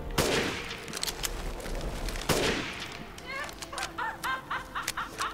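Gunfire in the video game Resident Evil 8 on PC: two heavy blasts with long decays, then a rapid series of shorter pops, over game noise with someone talking.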